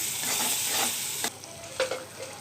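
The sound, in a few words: ginger garlic paste being stirred and fried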